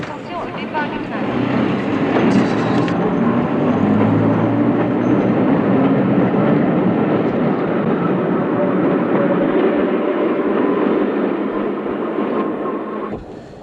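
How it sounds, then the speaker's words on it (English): A train pulls away from a French railway station, its loud, steady rumble and rolling clatter filling the whole stretch without a break. "Attention au départ du train."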